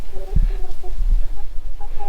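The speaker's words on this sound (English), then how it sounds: "And we got another hen over here." A loose hen clucks in short bursts near a chicken tractor build, close and fairly loud, with faint voices around it.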